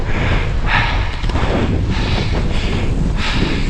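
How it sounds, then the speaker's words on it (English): Strong wind buffets the microphone in loud, rumbling gusts that surge and fade several times. Nothing else can be heard over it. "It is mighty windy up here."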